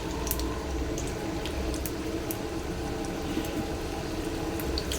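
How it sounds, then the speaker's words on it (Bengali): Chicken fritters for honey chicken sizzle in hot oil, a dense, steady crackle with scattered sharp pops, close and continuous with no talk over it. "এবারে এটাকে টুকটুক করে ভাজতে থাকবো।"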